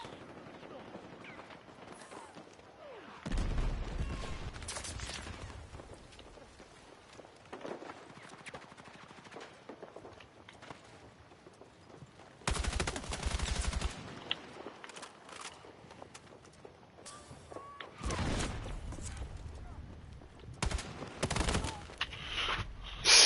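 Video game gunfire rings out in several loud, rapid bursts separated by quieter stretches, with footsteps and someone talking between the volleys.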